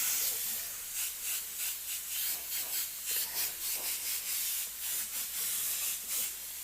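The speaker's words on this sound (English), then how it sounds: "Just a quick light mist just to get the white out of that." Airbrush spraying a light mist of yellow candy paint, a soft steady hiss broken into short repeated pulses with a faint rubbing texture, close and fairly quiet with no talk.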